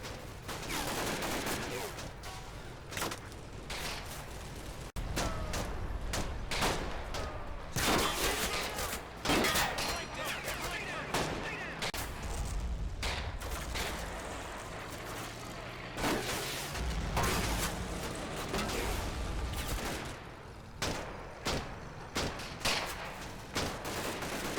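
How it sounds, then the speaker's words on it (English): Sustained machine gun fire in the World War II game Combat Mission Fortress Italy, with half-tracks under fire from a town: dense, continuous rattling bursts and cracks, with heavier booms mixed in, running without pause. "they are engaged by machine gun fire from the town"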